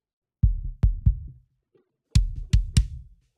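Sub kick drum channel isolated from a drum mix on an Allen & Heath Avantis console, triggered from the high kick channel and compressed: deep booming thumps in two short groups of three, with a gap between them.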